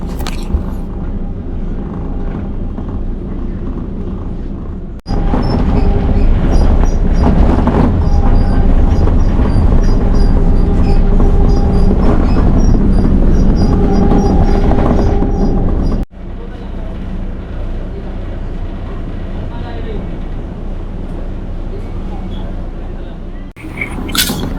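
A PNR commuter train runs along the tracks near Alabang on its last day of operation, with a steady loud rumble heard from on board and a louder stretch in the middle, while people talk faintly underneath.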